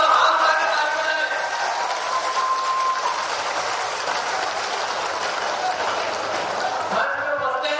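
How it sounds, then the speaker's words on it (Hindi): A crowd claps loudly to welcome the chief minister at an outdoor public gathering in Jawa, Rewa. The applause is dense and sustained throughout, then thins briefly near the end. "आपको एक बार जोरदार तालियों से यहाँ पर स्वागत करें"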